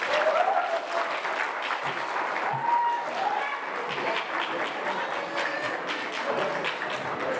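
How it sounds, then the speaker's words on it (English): A crowd at an alumni association evening event applauds steadily for about seven seconds, a dense, even wash of clapping with a few nearby voices calling out faintly underneath. "just a round of applause for yourself for just being here"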